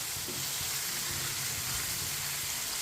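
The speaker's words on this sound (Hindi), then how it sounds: "अब इसे 4 मिनट के लिए भून लेंगे।" Beef pieces for beef karahi fry in a pot with a steady, close sizzle and spattering, occasional faint stirring clinks underneath, no voices.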